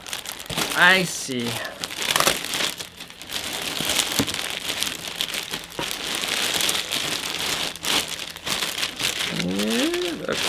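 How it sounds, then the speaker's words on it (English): A taped plastic bag is pulled open, giving close, loud crinkling and rustling that runs throughout, with brief spoken words over the crackle near the start and the end. "It's in this little plastic bag here."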